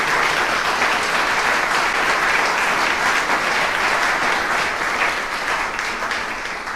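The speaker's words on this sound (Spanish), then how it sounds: "Dale fuerte el aplauso al Señor si se lo vas a dar." A church congregation applauds loudly during a sermon, a dense, sustained wash of clapping that stays strong and eases slightly near the end.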